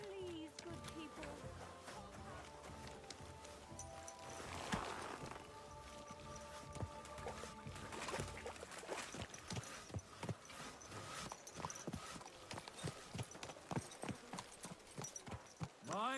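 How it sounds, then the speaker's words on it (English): Horse hooves in the medieval video game Kingdom Come Deliverance 2, a steady run of clip-clop steps mixed with game music, faint and continuous, with a voice speaking over part of it. "My, what a beautiful horse."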